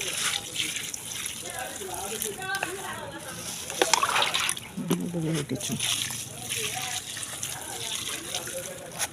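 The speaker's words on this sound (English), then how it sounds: "I add water." Water splashes and gushes as it is poured onto chicken droppings in a homemade organic fertilizer mix of farm waste, in uneven bursts under someone talking nearby.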